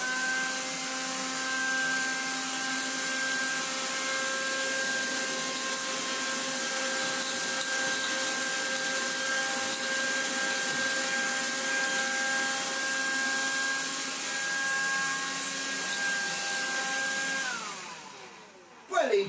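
A vintage Vax Vaxette cordless vacuum cleaner runs with a steady motor drone and a high whine. It holds level for most of the stretch, then winds down near the end.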